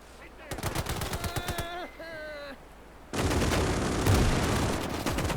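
Rapid bursts of Maxim machine gun fire in the Gates of Hell strategy game, sharp repeated cracks, then a brief pause before a longer, louder dense volley of gunfire, with a tonal game sound mid-way.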